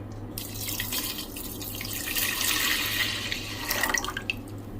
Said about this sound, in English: we will be starting off by adding some water